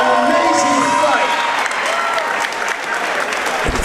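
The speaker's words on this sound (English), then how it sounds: "I want to give a round of applause to both ladies." Crowd applause fills the room after a women's combat sports fight at a Colorado club event, dense steady clapping throughout with a voice talking over it.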